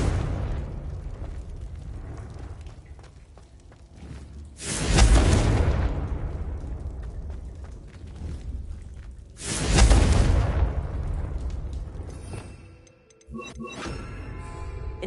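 The Confringo explosive curse in the video game Hogwarts Legacy goes off in two loud, booming blasts several seconds apart, each swelling and then fading over a rumbling backdrop.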